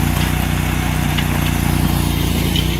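A trencher engine runs steadily at close range, a loud, continuous mechanical drone with a rough, chugging low throb and no breaks.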